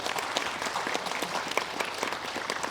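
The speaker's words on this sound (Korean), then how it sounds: "박수로 맞으시면 고맙겠습니다." A room full of people at a memorial ceremony for President Syngman Rhee in a memorial hall claps steadily, a dense close applause lasting the whole moment with no one speaking.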